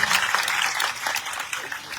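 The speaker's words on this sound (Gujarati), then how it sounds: "એકવાર તમારા માટે તાળીઓ છે" An audience at a farmers' camp protest rally in Jamnagar breaks into applause, a short, busy spell of clapping with crowd voices mixed in beneath it.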